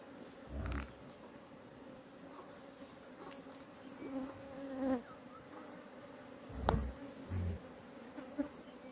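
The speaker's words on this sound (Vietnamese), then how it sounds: "Ong sắp chia đàn đến nơi rồi." Honey bees buzzing around an open hive that is about to swarm, a steady insect drone with brief louder passes of bees flying close by, plus a few faint knocks and rustles.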